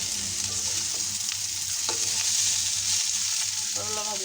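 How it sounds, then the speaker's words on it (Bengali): Sliced bitter gourd frying in a pan gives a steady, close hiss of sizzling oil with light stirring scrapes throughout, and no voices. "করলা ভাজিটা আমার প্রায় হয়ে গেছে।"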